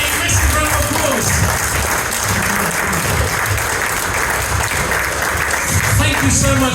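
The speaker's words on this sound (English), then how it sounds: "Give Debbie a massive round of applause." A large audience at a corporate dinner applauds loudly and steadily, dense clapping filling the whole stretch with a few voices and cheers mixed in the crowd noise.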